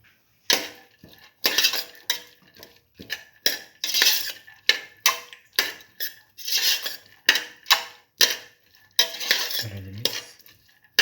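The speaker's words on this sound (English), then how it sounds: "Mix thoroughly." A spoon scrapes and clinks against a pot while beef and split chickpea stew is stirred, giving a string of close, rhythmic metallic strokes with short gaps and a low bubbling thump near the end.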